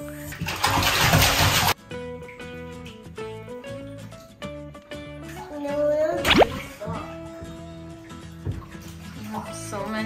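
A child splashes in a bubble bath full of toy sea animals: a loud burst of splashing water opens, then quieter water sounds continue beneath talking and tonal background sound.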